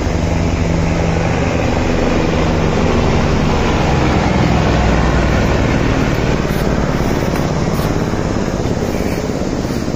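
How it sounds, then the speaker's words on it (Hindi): Helicopter ride from Govindghat to Govind Dham on the Hemkund Sahib route: a loud, steady, close rotor and engine roar fills the whole stretch without letting up, and no voices can be heard. "चलिए, हेलीकॉप्टर राइड शुरू हो चुकी है।"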